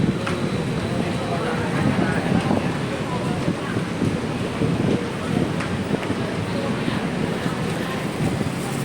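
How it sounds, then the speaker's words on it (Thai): Steady, broadband wind rushing across the microphone, with rumbling gusts throughout and no clear pauses. "ลมว่อยๆ"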